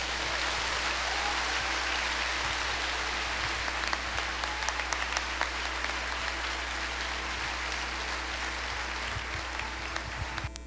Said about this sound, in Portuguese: Aplauda o Senhor mais uma vez